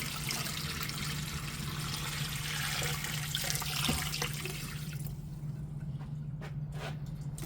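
Water pouring steadily into a brine container holding a 15-pound turkey, a continuous rushing splash that cuts off near the end, leaving a few faint drips and light knocks.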